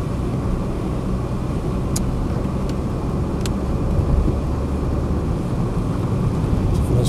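A Citroen Xsara 2.0 HDI 110 diesel estate car pulls up a hill, with a steady, dense engine and road rumble that stays even and continuous throughout.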